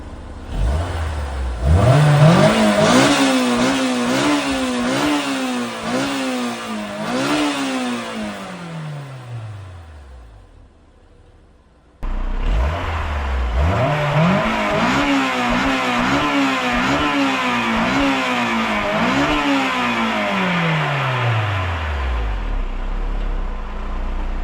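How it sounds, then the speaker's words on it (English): A Honda S2000 with its stock exhaust, before a dual exhaust install, revs hard, climbing through several sharp rising pulls and then dropping back to idle, done twice in a row, loud and close with no talking. "So let me go and get this going and rev it up."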